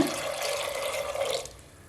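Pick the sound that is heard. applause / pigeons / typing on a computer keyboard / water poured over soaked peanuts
water poured over soaked peanuts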